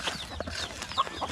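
Domestic backyard chickens cluck around feeding time at a small rural farm, a few short, close calls scattered over a brief burst.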